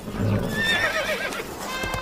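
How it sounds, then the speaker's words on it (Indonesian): A horse neighs loudly and close, a high wavering whinny that rises and falls, with hoof clip-clops mixed in, likely from a toy or animal sound set. "Wih, yang ini kuda"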